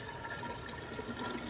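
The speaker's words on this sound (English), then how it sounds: "So I am going to go ahead and put the water in" Water poured into a truck-mounted hydrogen generator makes a steady, faint, continuous splashing and trickling wash, heard alone at close range.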